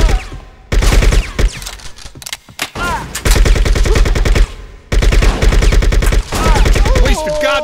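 Dense, loud machine-gun fire from Bad Boys: Miami Takedown, rapid sustained bursts broken by brief pauses, with some single shots and trailing echoes.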